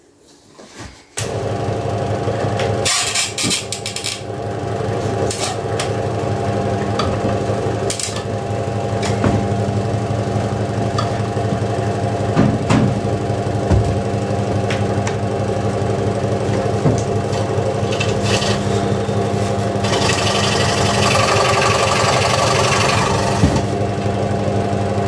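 A power saw fitted with a normal blade cutting wood for a Schwibbogen candle arch, running loud and steady throughout with a constant motor hum and occasional knocks, close by with no talking.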